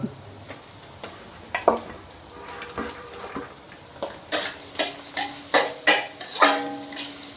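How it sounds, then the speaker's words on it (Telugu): Chopped onion, carrot, green chilli and mint frying in a pan for street-style egg fried rice, with quiet sizzling and stirring at first, then loud, regular metal-spatula scrapes and clinks against the pan in a steady rhythm, close up. "సిమ్లో పెట్టుకొని వీటన్నిటిని మెత్తబడేంత వరకు వేపుకుందాం"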